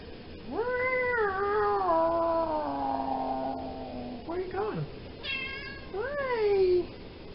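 A cat lets out a long, drawn-out meow, then several shorter rising meows follow, close and fairly loud.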